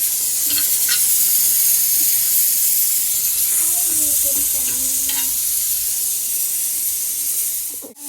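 Mutton masala fries in oil with a steady hissing sizzle, broken by faint scraping stirs, and a few faint tonal sounds come through partway.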